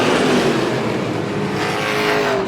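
Race cars at Star Speedway roaring past the finish line together, a loud dense engine drone with overlapping pitches and no gaps, close by and continuous throughout, with no talk.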